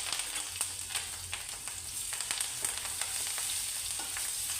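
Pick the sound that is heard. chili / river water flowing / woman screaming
chili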